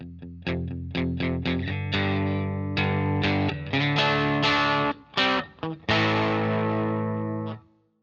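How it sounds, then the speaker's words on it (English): Heavily distorted electric guitar plays alone: a run of short, chugging chord stabs followed by longer, ringing crunchy chords, loud and close. "the full range of distortion may often suddenly or gradually kick in"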